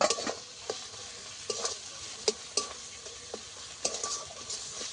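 A spice paste with ground coriander, whole coriander and cumin sautés in a pan, a quiet sizzle broken by intermittent clinks and scrapes of a spatula stirring, no talking.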